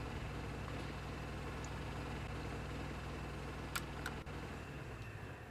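A car engine idling in the video game The Vanishing of Ethan Carter, a low, steady, quiet hum that continues evenly throughout with a brief click near the end.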